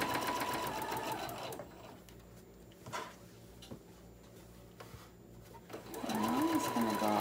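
A sewing machine stitches a Christmas pillowcase with a 3/8 inch seam, running in loud steady bursts at the start and end with quieter back-stitching pauses between.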